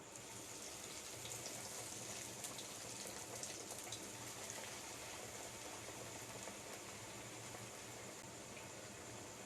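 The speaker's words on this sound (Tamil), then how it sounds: "இப்போ வந்து எண்ணெய் சூடாகிடுச்சு. நம்ம வந்துட்டு இந்த ரோல்ஸ் எல்லாம் வந்துட்டு அதில் போட்டுடலாம்" Chicken rolls deep-frying in hot oil give a steady, dense bubbling sizzle that runs unbroken and fairly loud throughout, with no talking.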